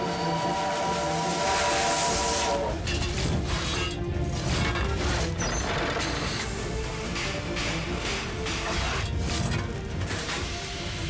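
Steam locomotive sounds from an imperial train: a loud, continuous rumble of wheels and carriages with hissing steam throughout, and a brief whistle-like tone near the start.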